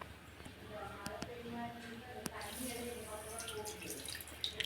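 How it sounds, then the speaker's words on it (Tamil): Water pours steadily onto sugar in a container with a gurgling, splashing trickle, close up, with a few small clinks in between. "இப்போ வந்து இதில் தண்ணி ஊற்றி நம்ம இதை கரைச்சிக்கலாம்."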